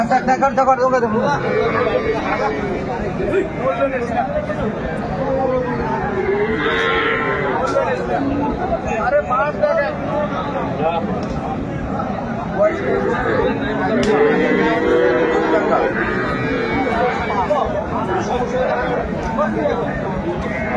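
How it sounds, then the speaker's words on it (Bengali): At the Aftabganj cattle market, cows and calves moo repeatedly in uneven, overlapping calls amid a steady crowd babble, with people talking nearby throughout. "গাভী বাছুর আমরা দেখছিলাম এখানে"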